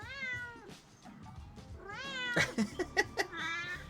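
Pet cat giving two drawn-out, rising meows, close and fairly soft, followed by a scatter of short clicks and rustles.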